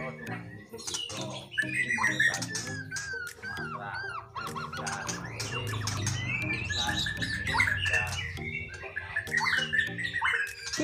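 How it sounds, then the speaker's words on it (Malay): A white-rumped shama, the Murai Batu Medan, calls in a near, loud run of squawks and high whistled notes, repeated through the passage amid background bustle and other noise. "Murai Batu Medan ini namanya ya, yang burung yang ini."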